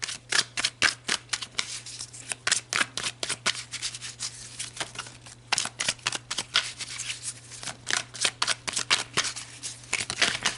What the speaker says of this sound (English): I just want to give these a good shuffle